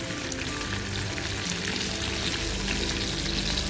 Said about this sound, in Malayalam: ഫ്രൈ ആകാത്ത ഭാഗം നോക്കി തിരിച്ചു മറിച്ച് ഇട്ട് കൊടുത്ത് നമുക്ക് എല്ലാ ഭാഗത്തും നന്നായിട്ട് തന്നെ ഫ്രൈ